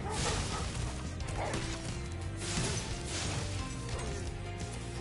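Dogs barking in the video game Spyro Remastered, several bark-like yelps and hits over a busy game soundtrack, with no one speaking.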